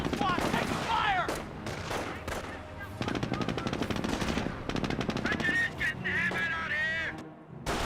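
Infantry squads with G43 rifles firing in the Company of Heroes video game: loud rapid bursts and crackling volleys of gunfire, mixed with tonal battle sounds that rise and fall.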